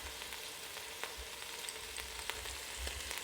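Oil pops and sizzles faintly as a pot roast sears in an Instant Pot, a continuous soft frying hiss scattered with small crackles and pops.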